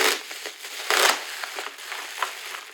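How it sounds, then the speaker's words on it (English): Loud crinkling and crushing of a Mylar foil pouch, with several bursts of rustling that swell and fade, handled close by. "Got my Mylar pouch here."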